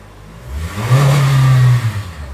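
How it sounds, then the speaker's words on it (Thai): A 2022 Toyota Veloz 1.5 engine revs up sharply, holds a high, steady whine for about a second, then drops back to a lower idle rumble. "เร่งรอบเครื่องยนต์ให้ฟังสักเล็กน้อย"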